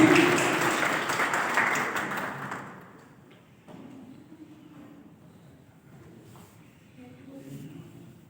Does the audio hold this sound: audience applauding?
yes